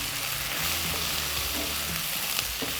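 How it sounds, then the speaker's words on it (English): Onion and garlic cloves browning in a pan for slow cooker lamb shanks, with a dense, even sizzle that holds steady throughout, close and fairly loud, with no voices. "I'm going to throw in some garlic cloves just to get them a little browned as well"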